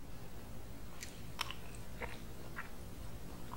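Someone eats Vathal Kulambu, a Tamil Nadu dish, with softened garlic pods, making a few soft, close bites and chews scattered over a quiet background with no talking.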